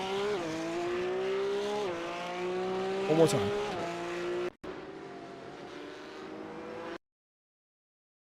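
Porsche Cup race cars scream around the Hungary circuit in replay, engines whining and shifting loudly up and down, with a brief tire squeal and a voice speaking over the roar.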